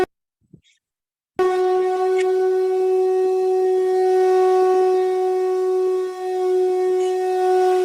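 A conch shell (shankha) is blown in a Hindu ritual, giving one long, steady, loud horn-like drone that holds for several seconds close to the listener after a moment of silence.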